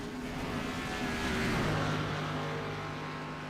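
Race car number 63 flashes across the start-finish line at a Talladega oval, a loud sustained engine roar that swells and passes with a slight pitch drop, heard alone and steady.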